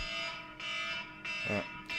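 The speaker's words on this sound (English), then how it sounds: "That's my nap alarm." A nap alarm goes off with a repeating electronic buzzing beep, pulsing on and off in roughly half-second bursts, moderately loud and steady, with a brief voice cutting in between pulses.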